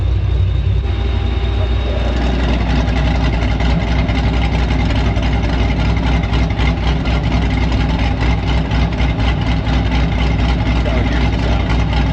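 A supercharged Pontiac GTO engine idles with its exhaust cutouts closed, a loud, steady, deep rumble that runs unbroken and close throughout.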